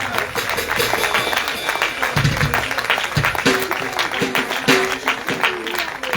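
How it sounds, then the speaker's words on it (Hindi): A congregation claps hands together at a Christmas church celebration, a dense continuous applause-like patter heard nearby and loud, with voices mixed in beneath it. "अपने हाथों को उठा के ताली बजाएंगे सब।"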